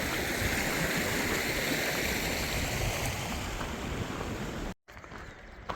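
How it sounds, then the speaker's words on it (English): A big wall of waterfalls rushes loudly and continuously on a Continental Divide Trail hike, a dense roar that cuts out abruptly near the end and returns much quieter. "It's a big old wall of waterfalls."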